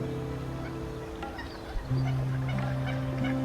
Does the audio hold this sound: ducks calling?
yes